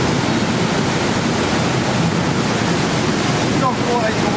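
Watkins Glen waterfall rushing close by, a loud, steady broadband roar of falling water heard from beneath the falls, unbroken throughout.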